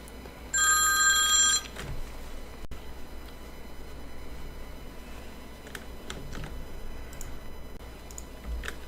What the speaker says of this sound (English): Excuse me for my phone ringing.